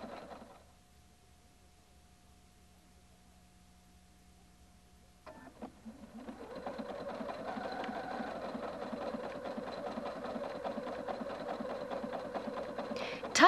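A Husqvarna Viking Designer 1 sewing machine starts up after a quiet pause and stitches a heart pattern, a steady, fairly faint mechanical whir and rapid needle rattle with no talk.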